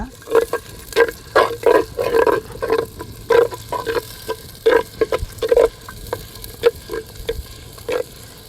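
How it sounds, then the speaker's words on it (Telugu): Thinly sliced onions sizzling in hot oil in a pan for Karnataka-style bisi bele bath, with repeated bursts of stirring and scraping in an uneven rhythm over a constant frying hiss. "ఇప్పుడు దీంట్లోకి 2 సన్నగా తరిమినట్టు ఉల్లిగడ్డ, వేసుకున్నాక ఒక 5 నిమిషాలు ఉల్లిగడ్డ ఎర్రగా అయిన తర్వాత"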